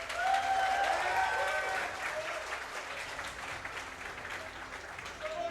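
An audience at a Zerg versus Protoss StarCraft esports event in Stara Zagora breaks into steady applause for a player introduction, with cheers over the clapping early on and the sound tapering slightly toward the end.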